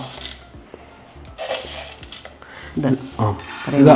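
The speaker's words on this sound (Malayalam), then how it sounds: "വേറൊരു പാൻ വെച്ചു കേട്ടോ നമുക്ക് അതിനകത്തോട്ട് ഒരു സ്പൂൺ ഉലുവ ഇട്ടു കേട്ടോ" Fenugreek seeds dropped from a spoon into a pan on a gas stove for mango pickle, giving scattered light clinks and taps that grow sharper and louder toward the end, with faint kitchen background.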